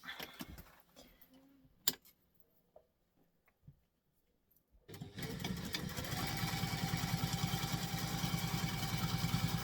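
A sewing machine starts after quiet handling sounds, then runs steadily stitching with a fast, even mechanical rhythm, close and moderately loud.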